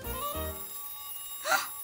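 A cartoon telephone rings in a children's animated episode, a short bright electronic ring burst arriving near the end after a brief low musical tone, fairly clear and unaccompanied by speech.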